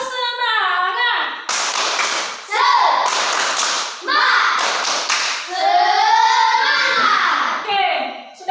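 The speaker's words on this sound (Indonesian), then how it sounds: "Tepuk semangat." A group of children joins in a rhythmic spirit clap during a classroom lesson, bursts of patterned clapping alternating with loud, lively chanting voices close by.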